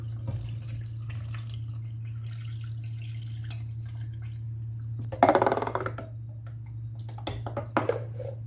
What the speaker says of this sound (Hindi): जिस पानी में हमने बॉयल किए थे आलू बुखारे, अब वो पानी इसमें छान के डाल देंगे।